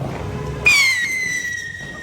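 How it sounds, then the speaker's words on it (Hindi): A Diwali firework rocket launches with a sudden loud whoosh and a piercing rising-then-falling whistle that trails off over about a second and a half, close by, with no talk. "रॉकेट बहुत तेज आवाज कर रहा,"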